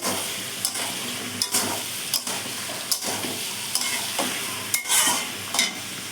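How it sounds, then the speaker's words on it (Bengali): Eggplant pieces stirred and fried in fish oil in a pan: a steady, close sizzle with sharp spatula scrapes and knocks recurring about every second, with no talking. "বেগুনটা দিয়ে দিলাম দিয়ে ভালো করে নেড়ে চেড়ে"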